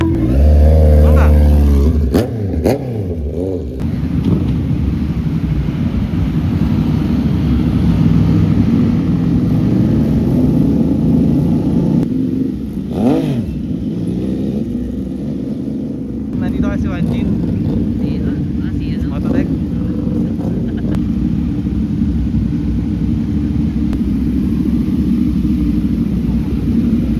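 A Kawasaki Z1000 motorcycle engine rumbles and revs steadily on a morning ride, a loud continuous low drone with a couple of throttle swells, while people talk over it.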